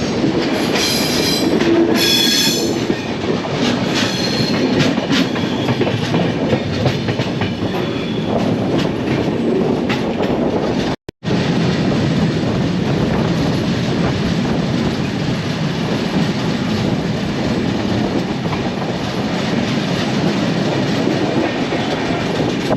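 The Avadh Assam Express rolls along the rails with a steady loud rumble and rhythmic clatter of wheels, heard from inside the moving train, broken by a brief dropout midway.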